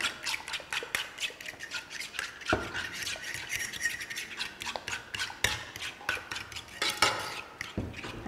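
Rice being mixed in a pot with a utensil, irregular scraping and clinking strokes against the metal, close and fairly quiet, with no talking.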